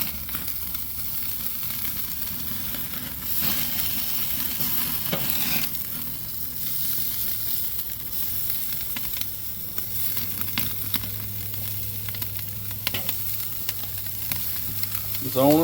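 Lamb chops searing over a lit charcoal fire on a Weber kettle grill, giving a steady, close sizzle and hiss with a few scraping and moving sounds, no talking.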